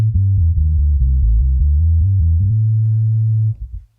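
Electric guitar played through a Boss OC2 octave pedal capture on a Quad Cortex with the first octave down cranked, giving a thick low riff of repeated notes that settles into one sustained note before cutting off.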